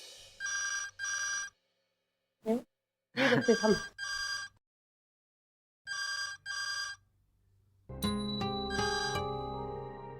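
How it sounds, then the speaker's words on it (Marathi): A telephone rings in repeated double bursts with pauses between them, going unanswered; near the end a different, denser ringtone or tone sounds, with a brief voice in between. "आई फोन का नाही उचलत आहे यार?"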